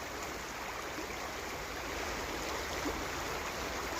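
Water released during the November 2023 Erie Canal dewatering flows into Cross Canal Brook with a soft, continuous rushing wash, fairly faint and steady, with no one speaking.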